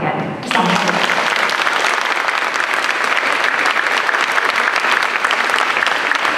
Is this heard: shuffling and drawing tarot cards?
no